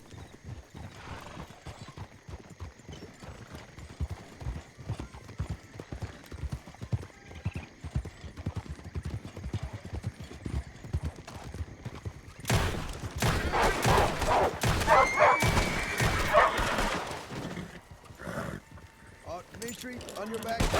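Horse hooves clip-clop at a steady galloping rhythm in a Wild West video game, with occasional whinnies; the hoofbeats grow louder and busier partway through, joined by bursts of gunfire.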